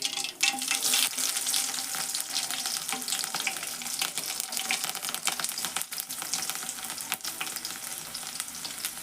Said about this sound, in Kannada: ಸಾಸಿವೆ ಜೀರಿಗೆ ಚಟಪಟ ಅನ್ನಕತ್ತಾವು. ನಾನೀಗ ಬೆಳ್ಳುಳ್ಳಿ ಹಾಕ್ತೇನೆ ನೋಡ್ರಿ.